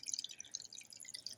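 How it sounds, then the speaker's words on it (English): Water running into a bowl of ramen noodles for microwave cooking, heard as a soft, steady trickle with bright splashy droplets, close and fairly quiet. "you're gonna go over and fill the bowl up with water"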